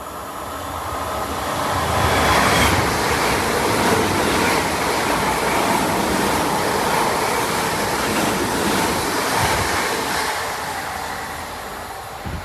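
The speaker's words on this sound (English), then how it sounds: "We've got the Royal Mail train, Class 325, heading through in just a minute from Shildmore." Royal Mail Class 325 train passing through a station at speed, a loud, close, sustained roar and rush of wheels and air that swells and holds for several seconds before easing off.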